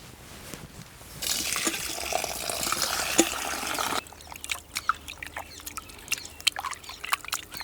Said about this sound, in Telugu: ఇప్పుడు చికెన్ శుభ్రంగా కడిగేసుకుందామండి